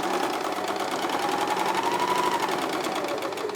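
An Elna 864 sewing machine stitches quilting fabric in a fast, even, continuous whir. The needle action is steady and close, with no talk over it.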